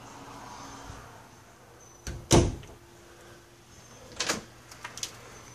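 Doors in a high-rise apartment hallway being opened, with a sharp thump and clatter, then a softer rattle and a few light clicks over a quiet room hum.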